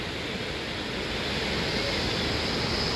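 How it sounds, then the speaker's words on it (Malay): A river runs past a campsite at Chor River in Sahom, a steady broadband rush of flowing water that fills the clip evenly and continuously, with no voices. "Ini sungai."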